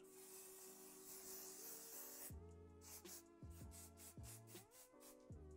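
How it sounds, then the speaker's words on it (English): Perfect Touch Ultimate Hold Setting Spray hairspray sprays out in a steady, close hiss for about two seconds, then stops while music carries on. "And next I'm taking some hairspray. This is the Perfect Touch Ultimate Hold Setting Spray. And I'm going to spray it on top."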